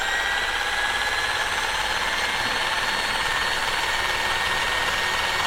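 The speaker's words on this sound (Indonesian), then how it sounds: "Saya mengaduk ini ratakan menggunakan bor ini" A steady electric drill whirs continuously at close range while mixing resin for a boat mold, holding an even high-pitched drone with no pauses or talking.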